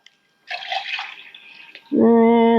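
Twelve ounces of reverse osmosis water poured from a container into a tomato mixture for spaghetti sauce, a splashing gush followed by a steady, louder stream, close by.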